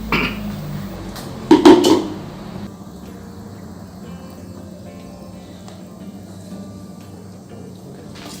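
A boiling sugar-water catfish feed mixture stirred in a pot: a few sharp metal clanks from the spoon, then a steady low bubbling rumble that carries on quietly.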